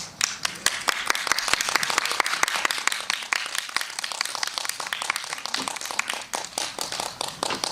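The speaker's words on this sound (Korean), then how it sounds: "앞으로 나와주시면 큰 박수 부탁드리겠습니다" Audience at a mountain-village film festival screening Q&A claps steadily for guests coming forward, a dense patter of many hands that thins gradually over several seconds.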